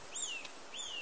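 Small songbird in spring taiga forest with snow still on the ground, giving two thin, high whistled phrases about half a second apart, fairly near and clear over a quiet background.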